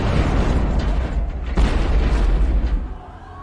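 A building blows up in a film scene, a loud, deep, sustained explosion roar that rumbles for about three seconds before dropping away, with no speech.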